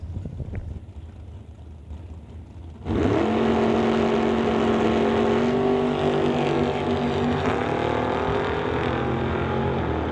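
A Quality Racing Duster drag car on the strip, idling low, then bursting into a loud, sustained engine roar at about three seconds that holds steady and close with a strong droning tone to the end.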